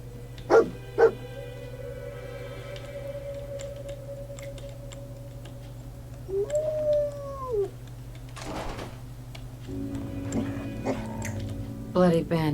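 Dogmeat, the dog companion in Fallout 4, gives a couple of sharp barks near the start and a drawn-out rising and falling howl midway, set against a steady game ambience hum with scattered clicks and footsteps.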